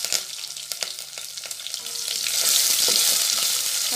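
Cumin, mustard seeds, dried chillies, curry leaves and onion hit hot oil in a village kitchen, crackling with sharp pops and stirring scrapes before swelling into a steady loud sizzle.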